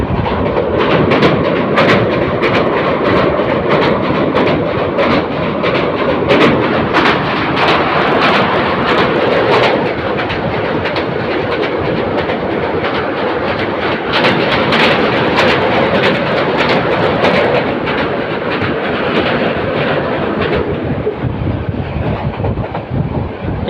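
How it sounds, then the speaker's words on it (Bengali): The Mohonagor Provati Express crossing the Ghorashal bridge over the Shitalakshya river, a loud, continuous roar of wheels and rattling carriages with dense metallic clanks throughout. "ট্রেনটি ঘোড়াশাল সেতু ক্রস করে আসছে"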